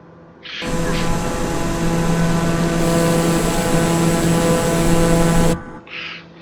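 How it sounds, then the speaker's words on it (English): A Daher aircraft engine in Microsoft Flight Simulator 2020, heard in flight during a night approach to Atlanta: a steady, loud drone with a strong tonal hum that holds for about five seconds, then cuts off abruptly. "That's the Daher aircraft that we're flying in right now."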